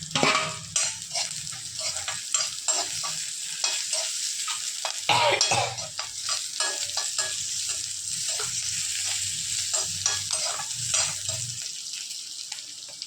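Cumin seeds sizzle in hot oil in a pan for a chickpea curry, a loud continuous crackling fry with bursts of spitting and occasional stirring scrapes, no voices over it.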